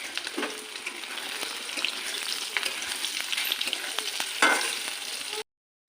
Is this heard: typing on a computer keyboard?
no